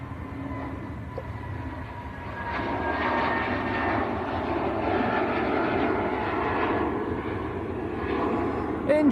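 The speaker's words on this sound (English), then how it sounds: "Jet2 to Las Palmas. November Hotel is the aircraft," An Airbus A321neo airliner operated by Jet2 at Manchester Airport produces a steady, broad engine roar that builds slightly and holds for several seconds, heard from a moderate distance.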